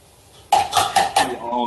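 Cocktail shaker rattling ice during a dry-shake of an egg white cocktail, four quick, crisp, rhythmic shakes starting after a short quiet moment, fairly close and without talk.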